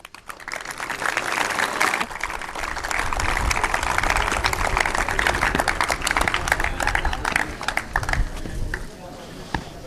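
An audience at a cadet appointment ceremony breaks into loud, dense applause that swells quickly and holds steady for several seconds before it starts to thin out.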